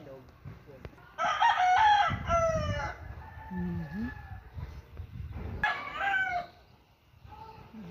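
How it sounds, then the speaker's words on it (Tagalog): Imported fighting cocks crow repeatedly, with loud, close cock-a-doodle-doo calls in bursts, clucking from other chickens, and someone talking quietly between the calls. "Ang dami niya. Ang daming manok dito."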